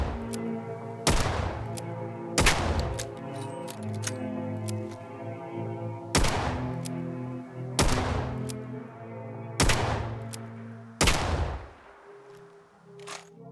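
Six sharp, loud gunshots from a 6-shot revolver rifle on a firing range in Fallout 4, spaced irregularly a second or two apart, each with a quick crack followed by a short ringing decay.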